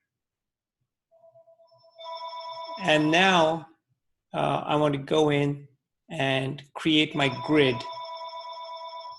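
A telephone rings with a repeating electronic tone in a short pattern of bursts and pauses, steady and clear, while a person keeps talking over it.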